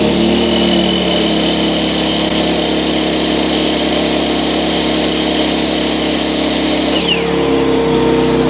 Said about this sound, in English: Now the chop saw.